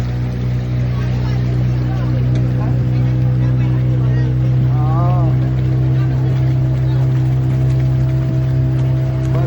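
A boat engine drones steadily on the Narmada river, a loud low hum holding throughout with people talking faintly over it.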